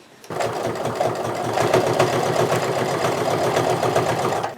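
A sewing machine stitching a sweater into a throw pillow starts abruptly and runs steadily for about four seconds, close and alone, with a rapid even mechanical rhythm.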